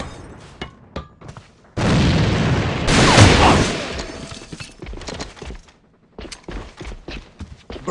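A grenade explodes in the online shooter AVA: a loud, sustained blast that swells after a moment, then breaks into scattered debris-like crackles and the thuds of gunfire and footsteps.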